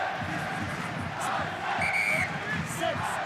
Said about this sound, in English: Crowd are really getting going now.